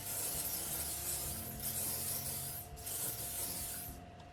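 A close, continuous hiss of a face mist spray runs for a few seconds, with brief dips in the airy spritz before it fades out.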